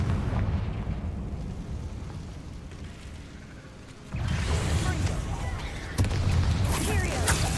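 Confringo fire spell explosions in Hogwarts Legacy, a dense roaring blast that swells sharply around four seconds and again near six, layered over a steady rumbling battle bed.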